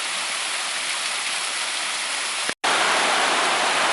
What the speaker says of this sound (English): still a nice little waterfall nonetheless